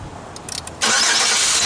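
A 2004 Pontiac Grand Am engine cranks briefly with a few short starter bursts, then catches and settles into a steady, loud, close-up idle with no talking.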